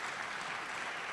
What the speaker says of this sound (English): the students, give us a hand clap